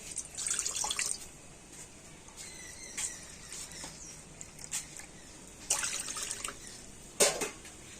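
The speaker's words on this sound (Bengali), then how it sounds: "এদিকে কড়াতে আবার দিয়ে দেবো আমি এই 2 বাটি জল" Two bowlfuls of water poured into a wok in bursts of splashing and trickling, close by, separated by quieter gaps with faint drips and clinks.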